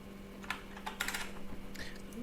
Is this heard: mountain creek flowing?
no